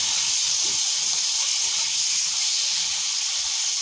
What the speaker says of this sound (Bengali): তেলটা গরম হয়ে গেছে, চিংড়ি মাছগুলো নুন হলুদ মাখিয়ে রেখেছিলাম দিয়ে দিলাম।